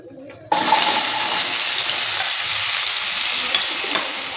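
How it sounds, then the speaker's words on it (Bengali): Elephant foot yam pieces hit hot oil with bay leaf and cumin, bursting into a loud, steady sizzle after a brief quiet start, stirred close by in a pan. "ওলটা দেওয়ার পর ভালো করে আবারও নেড়ে চেড়ে নিচ্ছি"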